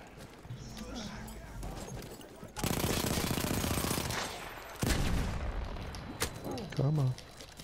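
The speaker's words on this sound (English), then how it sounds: "Our own guys are shooting at us." Battlefield 1 gunfire: a sustained burst of rapid, loud automatic shooting, a pause, then another heavy volley. It sits over a background of battle noise, and a voice cuts in briefly near the end.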